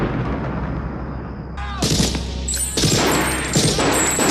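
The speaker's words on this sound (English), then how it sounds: "some dude starts shooting up the station and we hear an explosion amidst the gunfire." Sharp gunshots and heavy blasts crack out in bursts over a dense, rumbling background, with debris-like crashes between the shots, as someone shoots up a police station in the 1989 film Halloween 5.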